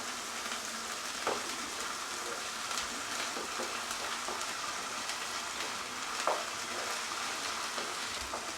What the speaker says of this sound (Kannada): ಇವಾಗ ಸ್ವಲ್ಪ ಗಾರ್ಲಿಕ್ ಜಿಂಜರ್ ಪೇಸ್ಟು, ಹಸಿ ವಾಸನೆ ಹೋಗೋವರೆಗೂ ಚೆನ್ನಾಗಿ ಫ್ರೈ ಮಾಡ್ಕೊಳ್ಳಿ.